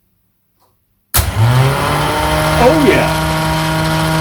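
After a second of silence, a Triumph Trident T160 starter motor on a bench test, wired live to live, whirs into sudden steady life with a loud, even electric spinning hum, and a man briefly exclaims over it.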